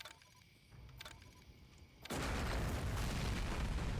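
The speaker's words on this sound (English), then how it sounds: "See what this explosion does to you." A heavy explosion in the video game Alone in the Dark: Illumination erupts after a quieter stretch of low rumbles and thuds, becoming a loud, sustained roaring blast.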